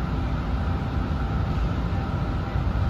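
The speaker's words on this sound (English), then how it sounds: "It's a two-car train." Interior ride noise aboard a two-car Boston Green Line Extension train, a steady low rumble and hiss with no voices, constant throughout.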